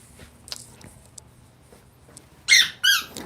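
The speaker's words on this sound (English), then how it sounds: "I feel like we got a 2-year-old kid around here with all these squeaky toys." A squeaky dog toy gives two loud, shrill squeaks close together near the end, after faint scattered indoor noises and quiet clicks.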